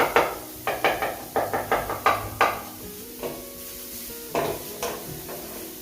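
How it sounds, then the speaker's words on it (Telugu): Onions fry and are stirred in a pan for dosa masala, with a series of sharp spoon scrapes and clatters against the pan over a steady low sizzle, close and moderately loud, with no talking. "ఈ మసాలాకి ఎక్కువ ఆనియన్స్ అనేటివి ఎక్కువ ఫ్రై అవ్వాల్సిన అవసరం లేదు, కొంచెం ఫ్రై అయితే బాగుంటుంది"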